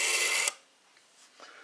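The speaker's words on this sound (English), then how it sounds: "is what the dial sounds like when you dial it" An Automatic Electric Model 90 rotary wall phone dial spins back with a half-second whirring buzz that cuts off sharply, followed by a few faint clicks.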